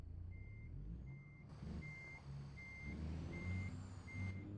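Truck reversing beeps in American Truck Simulator, a steady run of six evenly spaced electronic tones over a low diesel engine rumble, heard alone without talk.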